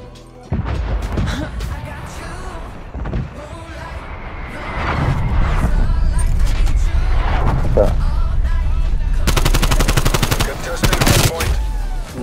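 Rapid gunfire rings out in a first-person shooter video game, with scattered shots building into dense automatic bursts and sharp crashes, loud and close, while players talk over the action.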